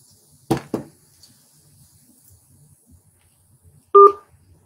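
Phone keypad presses on a party line menu: two quick clicky taps near the start, then a single clear two-pitch DTMF beep a few seconds later, close and isolated against near silence.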